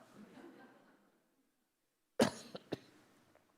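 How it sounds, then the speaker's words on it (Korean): A person with allergies coughs once sharply and loudly after a stretch of faint murmuring and silence, followed by a couple of smaller throat-clearing coughs that quickly fade. "제가 지금 알러지가 올라와서 기침이 자꾸 나옵니다."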